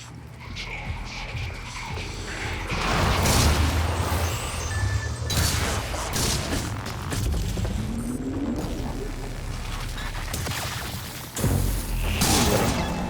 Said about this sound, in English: Is he shooting explosions?